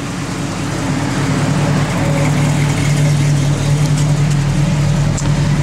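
A 1967 Chevrolet Nova with a mild cam, running on pump gas, idles steadily close by, its loud, even engine drone holding a constant low tone throughout.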